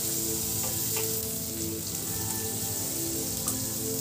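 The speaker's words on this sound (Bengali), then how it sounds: "হালকা যাতে লাল হয় সেই রকম ভেজে নেব" Onion, ginger and garlic frying in hot oil give a dense, continuous close sizzle that stays loud and even throughout, with no talking.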